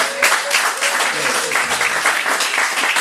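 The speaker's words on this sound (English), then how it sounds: "Clap if you love her." An audience claps steadily at a comedy show, a dense, fairly loud patter of many hands that holds without pause for a few seconds.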